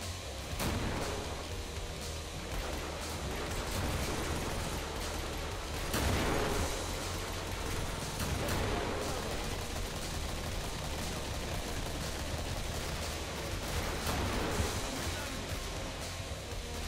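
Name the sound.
grenade launcher explosions and gunfire in video game Killing Floor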